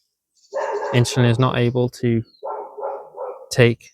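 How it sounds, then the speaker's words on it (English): A dog barks repeatedly in sharp, close bursts, with whiny vocal sounds between the barks; a voice may be mixed in. "Sorry about the barking."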